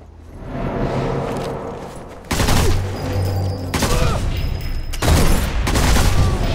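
Thompson submachine gun fire in the Sniper Elite 4 video game, with sustained bursts of rapid shots building into loud, dense volleys, punctuated by heavier booms and layered over constant game noise.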